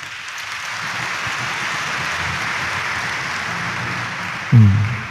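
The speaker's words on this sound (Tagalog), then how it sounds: "pumalakpak nga po" Congregation applauding during a Friday mass at Quiapo Church, steady broad clapping that holds evenly through the clip before a brief low thump near the end.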